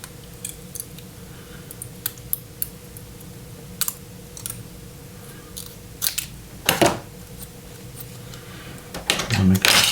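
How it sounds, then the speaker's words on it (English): Large scissors cutting and trimming thin metal foil for a natural metal finish, a series of sharp crisp snips and crinkles spaced irregularly, close and fairly quiet, with a louder crumpling burst near the end. "get some big scissors"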